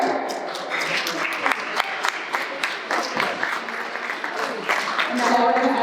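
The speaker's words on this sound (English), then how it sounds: "Big little applause for her." Wedding guests clap in a busy burst of applause at a reception, with cheers and voices mixed in over the patter of hands throughout.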